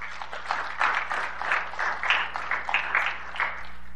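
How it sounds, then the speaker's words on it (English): A church congregation applauds performers during a Sunday service. Sustained, evenly textured clapping from many hands fills the space, with a faint low hum beneath it. "Give them a round of applause"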